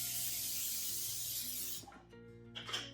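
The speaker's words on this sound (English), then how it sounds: "So I'm going to spray this with some olive oil." Olive oil sprayed from a can or mister onto a ham in a home kitchen: a steady, close hiss of spray lasting almost two seconds, then cuts off, followed by a few light handling clicks and a brief second puff.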